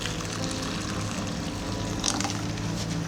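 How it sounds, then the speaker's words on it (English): Hot water pours steadily into a bowl of noodle soup seasonings such as chicken powder and chopped scallion, a close, continuous rushing gurgle that fills the whole moment without any talking. "then pour in hot water"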